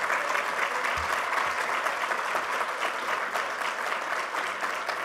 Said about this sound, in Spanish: Para ustedes, una vez más, estos aplausos y estas felicitaciones.